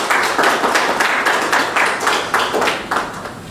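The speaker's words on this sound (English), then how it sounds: "So I think that we deserve to give ourselves a round of applause." A chamber of commerce meeting audience claps together in a steady, rhythmic round of applause, loud and close, filling the whole short stretch without pause.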